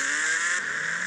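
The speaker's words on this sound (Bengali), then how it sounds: "চলো ভাই, বাইকের আওয়াজ কত জোরদার।" Motorcycle engine in a GTA-style video game revving hard and loud, a steady close roar with no talk.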